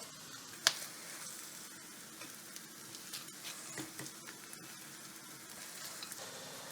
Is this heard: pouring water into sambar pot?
no